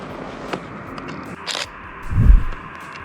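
A Nikon D3300 DSLR fitted with a kit lens fires its shutter outdoors, with a few sharp, brief clicks spaced apart and a soft handling bump toward the end, close and quiet.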